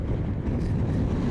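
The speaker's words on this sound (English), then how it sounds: "Wow, it's windy." Strong wind buffets the microphone as a rider stops a 100cc two-stroke motorized bicycle beside a road, a dense low roar with no talk.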